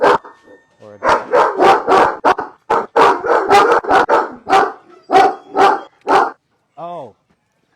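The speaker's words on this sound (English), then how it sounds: "so the dogs are loud" Several farm dogs bark loudly and repeatedly in close, rapid bursts, with a short whimpering howl near the end.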